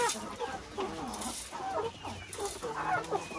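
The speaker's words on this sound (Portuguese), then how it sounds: "Soltar as frangas agora." Young hens, just released from their coop, cluck and chatter continuously at close range, several birds calling over one another with a few louder squawks and no talk.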